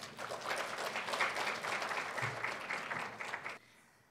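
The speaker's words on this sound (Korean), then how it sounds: "모두 박수로 맞아주시기 바랍니다." Applause from an audience at a journalism research seminar greets a speaker, a dense burst of clapping that carries on for about three and a half seconds before cutting off to quiet room tone.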